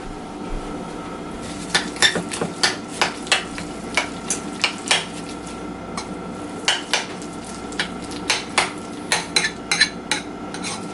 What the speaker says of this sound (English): We're going to add the parsley to it, and then we're going to mix it all together.